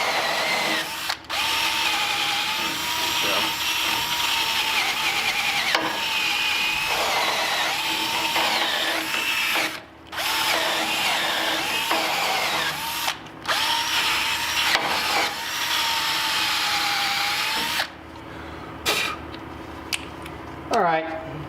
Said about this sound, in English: so I'm just gonna hit it with a steel brush.